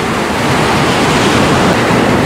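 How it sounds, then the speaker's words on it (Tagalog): Large ocean waves surging and crashing during a powerful storm near wrecked boats and a bridge, a continuous loud roar of surf with wind buffeting the microphone throughout. "hindi natin malapitan dahil malaki yung alon"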